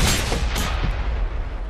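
A Jagdtiger tank destroyer with an 8.8 cm Pak 43 gun fires in World of Tanks, a single heavy cannon boom at the start followed by a rumbling low tail and battlefield noise, loud and close.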